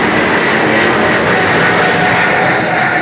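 A steady, loud roar of an airplane passing overhead, a broad, continuous wash of engine noise without breaks, heard alone with no talking.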